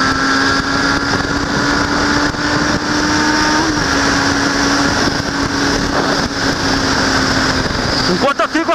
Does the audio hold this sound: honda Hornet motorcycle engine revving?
yes